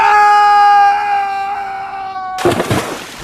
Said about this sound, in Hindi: असिस्टेंट के चिल्लाने की आवाज दिवेश के कानों में पड़ी।